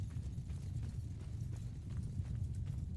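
Horses' hooves in the video game Mount & Blade II: Bannerlord make a steady, low, continuous drumming clatter, like many mounts moving together in an army column, with no clear individual steps.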